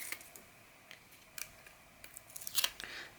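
Backing is peeled off score tape in a quiet room, giving a series of soft, brief crackling rips and ticks, irregular and close, with a denser burst near the end.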